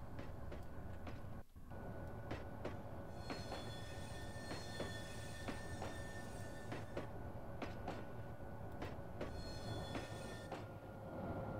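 A tram in a TrainZ train simulator game rolls through a big city, with continuous rumbling wheels, repeated clicks over rail joints and high metallic squealing, steady and fairly close with no talk.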